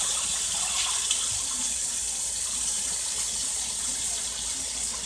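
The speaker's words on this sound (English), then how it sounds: "you're basically gonna rinse it off till most of the milky is all gone" White rice is rinsed under running tap water to wash off starch, a continuous close gush and splash of flowing water filling a bowl or sink, steady throughout with no talking.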